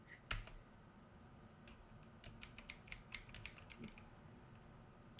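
Quiet, close keystrokes on a computer keyboard as a password is entered: a sharp click first, then a quick run of light, uneven taps.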